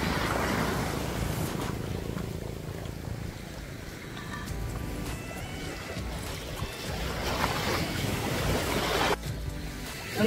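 Sea waves surging and washing near an island in the Mercedes Group of Islands, Camarines Norte, with fairly strong surf; a steady broadband wash of water and wind runs throughout, swelling slightly toward the end.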